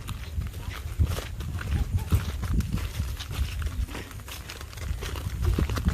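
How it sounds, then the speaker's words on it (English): Horses on a farm clip-clop with irregular hoof steps and shuffling nearby, mixed with soft movement noise and light talking in the background. "Do you like your horse?"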